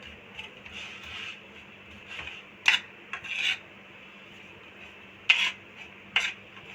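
A spoon scrapes and clinks around a bowl, stirring a chaat masala filling, with quiet rubbing strokes and a few sharper metallic knocks at uneven intervals.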